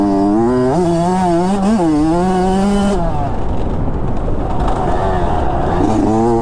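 A Kawasaki KX85 dirt bike ridden close by on trails, its two-stroke engine revving hard with rising and falling pitch through the first three seconds, then a rougher, lower roar as it drifts around corners.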